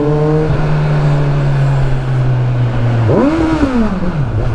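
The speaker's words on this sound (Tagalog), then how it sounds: "So yung kala mo tahimik yung Acra, pag hinay RPM mo siya, meron naman, may tunog naman siya." A Kawasaki Versys 1000 SE motorcycle fitted with an Akrapovic exhaust idles steadily at low RPM, then gives a quick blip of the throttle that rises and falls, loud and close.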